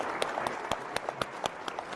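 An audience applauds the panelists at a televised discussion on eggs and the economy, a steady run of individual hand claps at moderate distance with no talk over it.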